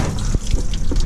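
Water splashes and trickles out of the radiator of a 2013 Ford Fiesta 1.6 L as it drains after the radiator leaked, a loud, close, steady wet gush with small splats.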